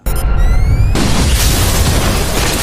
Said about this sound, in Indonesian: Ia langsung meledakkan bom tersebut hingga membuat restoran itu meledak.